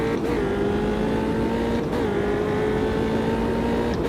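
An F3 race car engine in the Automobilista 2 racing game, lapping at Jerez, holds a steady, loud, continuous drone with slight pitch shifts as gears change, heard alone without talk.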